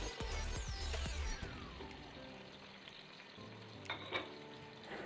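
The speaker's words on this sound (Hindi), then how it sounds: "ये तमाम चीज़ें मैं इसके अंदर ऐड कर दूँगी और उसके बाद मैं इनको ऑयल में भून लूँगी।" Pistachios, cashews and other dried fruits frying in oil for sweet zarda rice, a quiet close sizzle with clinks and knocks from stirring, no voices.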